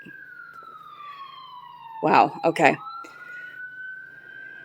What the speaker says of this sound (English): I don't know if you heard the police sirens in the background